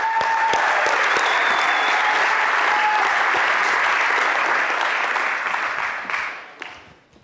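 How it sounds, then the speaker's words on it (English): A benefit concert audience gives a poet a loud, dense round of applause that holds steady for several seconds, then thins out and fades near the end. "let's give him a good round of applause"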